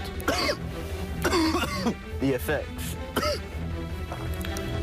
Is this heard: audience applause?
no